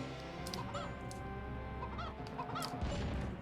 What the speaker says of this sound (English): That there is the glorious sound of a chicken.